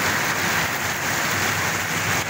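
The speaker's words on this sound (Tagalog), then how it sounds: "Lakas ng ulan dito." Heavy rain pours down steadily with a dense, continuous hiss, loud and close, with no pauses across the short stretch.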